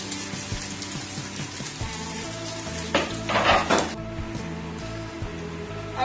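Onions sizzling in hot oil in a pan tempered with panch phoron and a dried chilli, a steady fry with a louder burst of sizzle in the middle, plus scattered clinks of a utensil against the pan.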